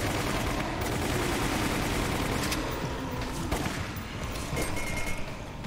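Dense, continuous video-game gunfire from Resident Evil: Umbrella Chronicles as barrels are shot, a loud unbroken stream of rapid shots and booms with a few sharper bursts near the end.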